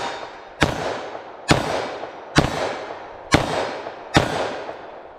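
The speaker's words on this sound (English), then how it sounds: "you might have noticed I fired 6 shots" Six sharp, loud gunshots from a short-barrel revolver chambered in .327 Federal Magnum, fired at an even pace about one per second, each crack followed by a brief decaying echo, with no talking.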